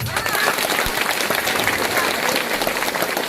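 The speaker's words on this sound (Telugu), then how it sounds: "అందరూ గట్టిగా చప్పట్లు కొట్టాలి." A crowd of Om Shakti devotees claps steadily at a night gathering before setting out for Melmaruvathur. The applause is dense and loud, a continuous wash of hand-claps from start to finish.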